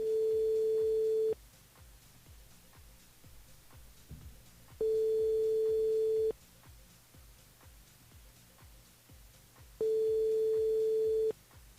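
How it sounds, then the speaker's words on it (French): Telephone tone heard during a live call-in radio broadcast, three long steady beeps separated by pauses, with quieter background sound between them. "On appelle Anna du côté du port"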